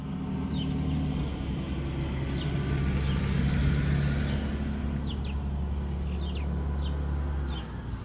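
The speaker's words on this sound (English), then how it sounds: "I'm letting these cars go by." Several cars rolling past on a nearby road, their engines and tires making a steady loud rumble, with faint birds chirping in the background.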